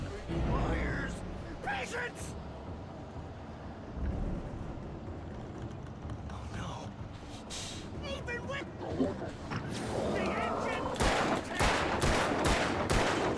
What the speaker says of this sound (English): I wonder if these barrels will explode if I shoot them.